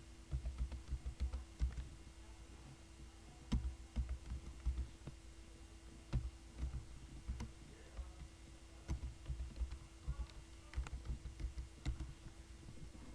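A username and password are typed on a computer keyboard to log in to a server web console, soft close keystrokes in short irregular bursts against a quiet hum.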